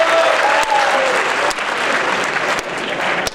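A comedy show audience claps in answer to the host asking who has been to these shows before, a dense burst of applause that stays loud throughout, with a few sharp louder claps near the start and end.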